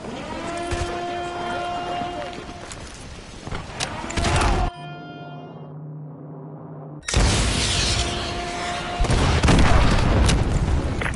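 AGM missile strikes in Call of Duty: Modern Warfare 2 land as heavy, booming explosions, with a loud rolling barrage that cuts out briefly to a low hum before another sustained burst of blasts and rumble, under game sounds and some voice.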